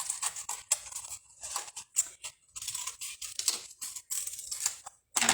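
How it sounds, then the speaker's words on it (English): Scissors fussy cutting paper words out for a handmade card, a run of close, crisp snips in irregular bursts with brief pauses between cuts. "We're just going to fussy cut those out."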